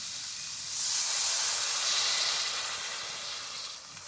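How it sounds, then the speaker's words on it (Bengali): Water poured into a hot pan of okra mixture gives a steady steaming hiss that swells after a moment and holds, with no talking. "এবার দিয়ে দেবো পরিমাণ মতো জল"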